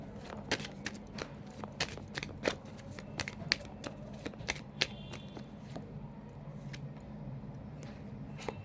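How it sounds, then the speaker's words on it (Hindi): Love Oracle cards being shuffled and drawn, giving a quiet run of soft papery riffles and sharp slaps that repeat irregularly, with the card taps fading into a low room hum toward the end. "तो लव ऑरिकल से आई विल टेक 3 कार्ड"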